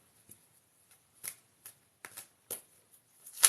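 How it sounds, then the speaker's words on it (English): Playing cards riffle and snap in short, crisp bursts, a handful of quick shuffles with pauses between, close up and otherwise quiet. "As I'm shuffling these cards"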